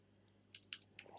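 Computer keyboard typing while building a web page, a handful of faint, crisp key clicks in an irregular quick sequence over a quiet room hum.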